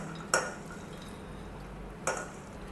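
Nuts and fruit for a sweet filling tip into a frying pan, giving two brief, faint clattering knocks spaced a couple of seconds apart over a quiet kitchen background.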